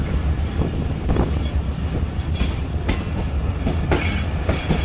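ZCU30 diesel locomotive hauling a train between Khanewal and Lahore in Pakistan, with loud rhythmic clickety-clack of wheels over rail joints and a rumbling engine beneath, heard up close with wind buffeting.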